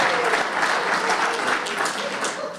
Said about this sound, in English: So maybe a louder brand of like applause.